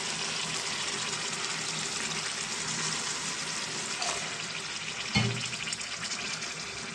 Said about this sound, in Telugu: కొంచెం వాటర్ కూడా వేసుకున్నామండి